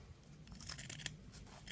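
Scissors cut through a miniature doll diaper in quiet, close, crisp snips and crunches, a quick irregular series of blade closures with no speech.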